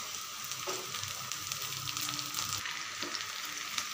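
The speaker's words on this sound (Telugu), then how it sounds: "లైట్ అండ్ గోల్డెన్ బ్రౌన్ కలర్లోకి మారేటప్పుడు మనం కట్ చేసి పెట్టుకున్న గ్రీన్ చిల్లీస్ ఇంకా కరివేపాకు వేయాలి" Onions, green chillies and curry leaves frying in hot oil, a continuous loud sizzle with a few stirring scrapes and crackles throughout.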